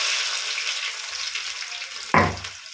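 Mustard seeds, dal, garlic and a small onion frying in hot oil give a steady, close hiss, and near the end a louder burst of sizzle and spatter rises and then eases off.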